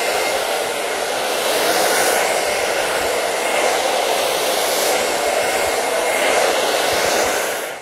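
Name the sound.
hair dryer blowing hair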